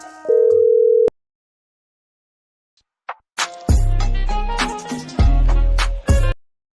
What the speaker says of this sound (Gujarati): લાય મિહિરને ફોન કરી જાઉં.